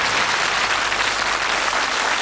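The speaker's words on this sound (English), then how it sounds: "Warm round of applause. Come on. Well done." A studio audience at a darts game show gives a brief burst of steady, fairly loud applause.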